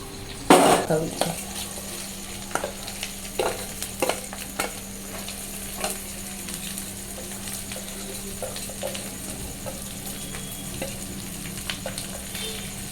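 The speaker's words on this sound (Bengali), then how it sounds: "একটু কাজুটা লাল লাল হবে, তারপরে কিশমিশটা দেবো, আর কাঁচা লঙ্কাগুলো দেবো।" Cashews, raisins and green chillies fry in a pan with a continuous close sizzle, punctuated by a burst of clattering and several spoon-on-pan scrapes early on, then steady frying.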